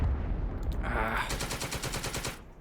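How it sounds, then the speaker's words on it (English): A tank turret in the Second Front wargame takes a hit and the shot ricochets: a sharp impact burst followed by a rapid rattling series of metallic clanks, fairly loud with no voices over it. "Turret hit and ricochet"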